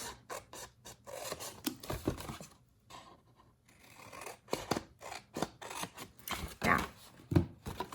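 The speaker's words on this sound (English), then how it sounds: "cut all the way down to that on each of these" Scissors snip paper in short, close, crisp strokes up to a score line, in uneven bursts with a brief pause partway through.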